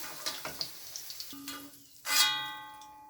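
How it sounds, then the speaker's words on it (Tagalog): Garlic and onion for beef mechado hit a hot pan with a sudden loud sizzle after some light clinks of utensils, the frying hiss then slowly fading, no talking. "maaari na rin gisahin ang bawang at sibuyas"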